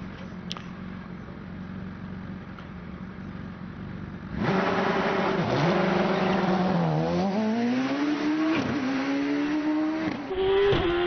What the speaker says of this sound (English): to the start line comes Richard Spedding in this amazing Raptor with its 1300cc blown engine producing 450-500 horsepower in a car that weighs, 400 kilos max